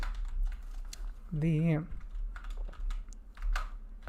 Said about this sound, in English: Let's do some typing too.